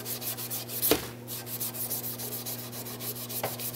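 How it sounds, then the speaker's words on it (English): Abrasive Scotch-Brite pad rubbed back and forth along the cutoff rod of a heat seal hand wrap machine, giving soft repeated scuffing strokes at close range over a steady mains hum. "I'm going to take my Scotch-Brite pad, and basically what I'm going to do is just kind of rub it against the cutoff rod"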